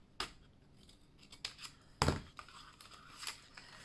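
Scissors trim a paper belly band on a vintage notepaper folio, giving a few close, crisp snips with a louder cut near the middle and light paper rustle between them.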